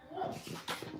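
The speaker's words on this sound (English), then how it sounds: "the neighbor's dog is outside, so she comes in when she starts Barking" Dog outside whimpering and yipping, a few short high whines and yelps, faint and somewhat distant, with a voice murmuring nearby.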